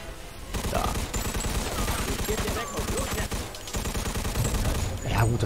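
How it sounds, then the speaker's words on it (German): Continuous rifle fire in the Mafia 2 video game: a sustained fusillade of rapid, closely spaced shots that keeps going nearly without pause, loud and close, with a brief lull partway through. "Das Gewehr ist halt dafür, einfach drauf zu halten"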